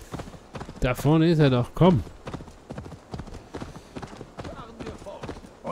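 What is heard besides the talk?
horse hooves while riding in Assassin's Creed Valhalla video game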